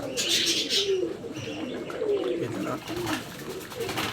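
Pigeons coo in soft, repeated low phrases, fairly close, with a few higher chirps from other birds mixed in and faint background noise.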